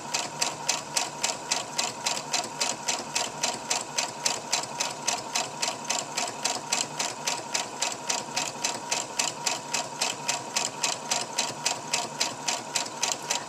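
A sewing machine stitching a store-bought bandana runs steadily, its needle hammering in a fast even rhythm with a mechanical whir, close and continuous with no talk.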